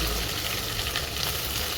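Onions sizzle steadily in hot oil in a wok, a continuous close frying hiss that stays even throughout with no pauses.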